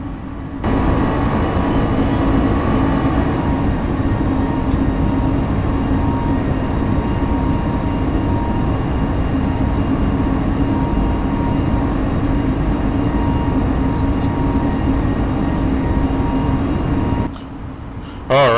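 Airliner taking off in Microsoft Flight Simulator 2020 on a trip to Miami: a steady, loud engine roar with a deep rumble that holds almost unchanged for the whole run, then cuts off abruptly near the end.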